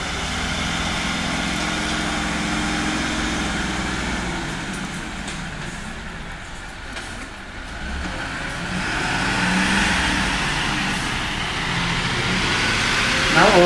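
A Mercedes-Benz Unimog crawls over barriers on an off-road demonstration course in Ötigheim, Germany, its engine droning steadily and swelling into a louder rev partway through, with someone talking over it.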